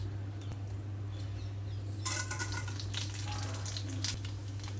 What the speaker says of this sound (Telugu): తాలింపు గింజలు అలాగే ఎండమిరపకాయలు వేసి వేయించుకుంటున్నాను